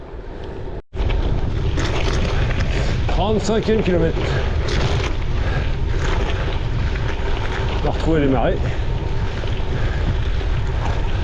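Headwind roars across the microphone of a rider on a gravel bike near marshland, a loud steady blustery rush after a brief dropout, with someone talking over it now and then.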